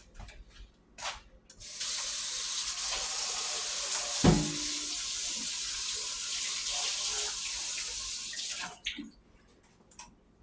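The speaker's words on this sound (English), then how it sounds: "I'm going to rinse this lid off." A pot lid is rinsed under a running kitchen tap: a steady rush of water for about seven seconds with a clank of metal partway through, then the flow cuts off and a few handling knocks follow.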